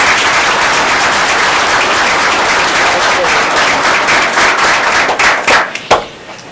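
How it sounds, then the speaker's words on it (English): Audience applause at a Danville Public Schools board meeting, a dense sustained round of clapping from a room of people that thins into a few scattered, louder individual claps at the end. "One more round of applause."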